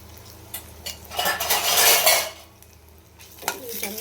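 Frying in a pan while making trotter soup: loud clattering of a utensil against the pan with a swelling sizzle in the middle, then more scraping and clinks, close and busy, without speech.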